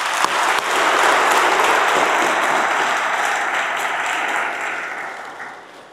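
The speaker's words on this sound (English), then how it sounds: "Can we please give them another round of applause?" An audience applauds musicians after an evening's opening performance at a lecture hall, giving dense, steady clapping that begins sharply and then gradually tapers off.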